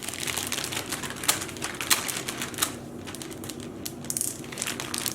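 Dyed rice rattles and crackles inside a plastic baggie as a hard-boiled Easter egg is swirled around, a close, busy run of gritty ticks and crinkles with a few louder clacks.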